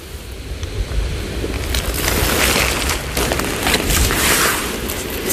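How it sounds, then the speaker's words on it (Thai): Steady broadband rush of wind with the wash of sea waves underneath, fairly loud and continuous with no voices. "วันนี้มีลมและเสียงคลื่นทะเล"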